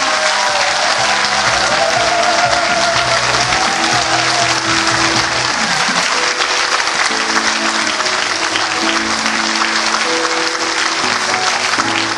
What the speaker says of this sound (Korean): 여러분 큰 박수로 부탁드리기 바랍니다.